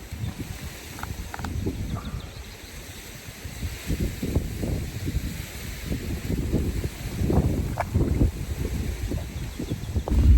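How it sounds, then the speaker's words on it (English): Wind gusting outdoors at a fishing lake, a low rumbling buffet against the microphone that swells and builds toward the end, loud and continuous with no voices. "The wind has just literally picked up again."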